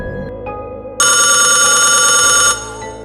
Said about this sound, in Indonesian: telepon rumahnya masih terus berdering